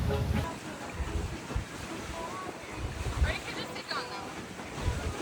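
A catamaran sails on the ocean off Waikiki, with rushing waves, hull splash and gusty wind buffeting the microphone, all steady and close. A voice talks over it.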